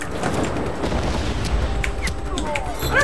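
Explosions and gunfire in the video game Just Cause 3 crackle and thump in a scattered series of bursts under a continuous low rumble, moderately loud.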